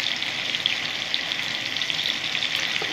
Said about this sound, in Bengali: ভাজা ভাজা করে নেবো কচু মুখিগুলো